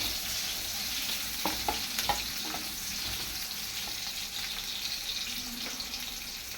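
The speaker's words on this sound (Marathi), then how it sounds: "चला तर आता घालूया कांदा" Chopped onion hits a hot pan and sizzles steadily, with a few soft scraping stirs and clicks breaking through the continuous frying hiss, close and moderately loud.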